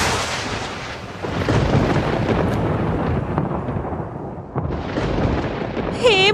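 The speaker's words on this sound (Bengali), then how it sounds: "এমন সময় পাশের তাল গাছগুলোতে একটা জোরে বাজ পড়ে।" A loud thunderclap striking palm trees beside a riverside path, a deep rolling rumble that swells, dips briefly, then surges again, heavy and booming throughout.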